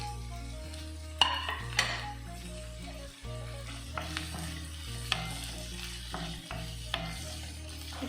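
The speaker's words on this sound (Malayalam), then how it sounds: "ഇതും കൂടി ചേർത്തിട്ട് ഒന്ന് നന്നായിട്ട് വഴറ്റും" Onion and chopped tomato sauté in a pan for a Kerala green peas kurma: a spoon stirs and scrapes in intermittent strokes over a soft sizzle, with steady background music underneath.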